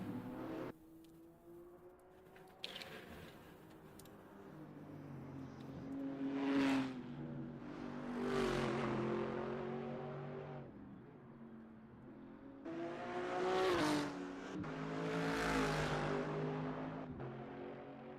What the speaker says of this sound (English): Let's see if the Aston will be able to overtake the BMW.